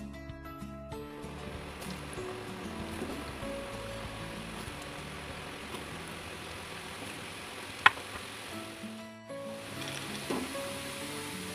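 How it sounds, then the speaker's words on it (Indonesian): Potatoes fry in hot cooking oil with a steady, dense sizzle and bubbling that stays even throughout, with a sharp crackle or pop near the middle, close by and with no talking. "Minyak sudah panas dan sekarang saya akan mulai goreng."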